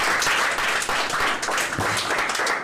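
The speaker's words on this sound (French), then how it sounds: "pour nous encourager avec des applaudissements" Audience applause at a French reading contest: steady, dense clapping from a crowd that fills the whole stretch, fairly loud and even, with no voices standing out above it.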